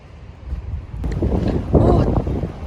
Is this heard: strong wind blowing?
yes